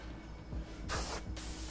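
Unreduced paint forced through a spray gun for artwork, two short loud hissing bursts separated by a brief gap, sputtery over a low background hum.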